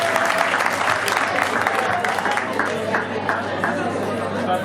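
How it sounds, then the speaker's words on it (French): Guests at a customary wedding in the Republic of Congo clap together in a steady, lively burst amid crowd chatter and background voices. "Applaudissements."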